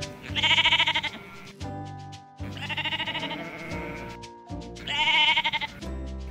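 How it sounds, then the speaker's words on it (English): Sheep bleat in three loud, quavering calls that rise out of a backdrop of children's farm-animal music, with pauses in between. "Sheep."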